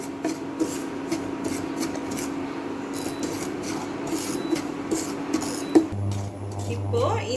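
Semolina (rava) frying in ghee in a pan while being stirred, a scraping rub that repeats under someone speaking, with a low hum entering near the end.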